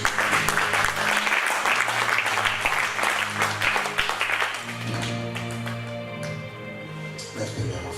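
A church congregation applauds and cheers loudly for several seconds, dense clapping filling the space before easing off as keyboard chords continue underneath.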